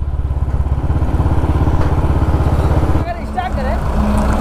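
A Bullet motorcycle engine thumps in a fast, even, close rhythm during a race against a JCB, then drops lower as a voice starts talking over it.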